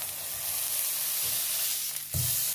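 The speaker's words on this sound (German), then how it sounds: "Und Patty Nummer 2 kommt in die Pfanne." A smash burger patty sizzles in a hot pan, a steady broadband frying hiss throughout, with a sharper burst of sizzle near the end as more meat hits the surface.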